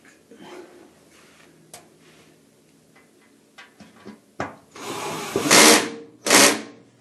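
A washing machine's drain pump housing is fastened back in place, with a cordless driver whirring in two loud, close bursts near the end after some quiet fiddling and small clicks.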